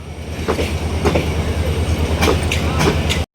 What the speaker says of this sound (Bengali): পাশাপাশি এখানে ঢাকামুখী উপচে পড়া যাত্রীদের নিয়ে একটি ট্রেন অপেক্ষা করছে ক্রসিং ছিল এখন দুই ট্রেনের দেখা হয়ে গেল